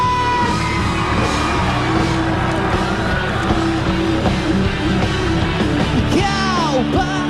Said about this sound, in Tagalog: Sumigaw kayo lahat!